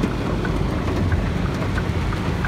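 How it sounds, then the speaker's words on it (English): Rain falling steadily beside a road during a road trip, close soft patter with scattered drops, continuous and alone. "As you can see, it's raining."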